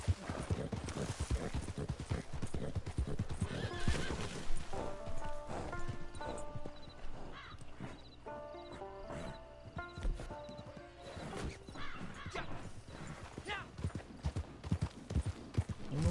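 A horse in the Red Dead Redemption 2 video game clip-clops with steady hoofbeats, mixed with a neigh and other game sounds, with little talk.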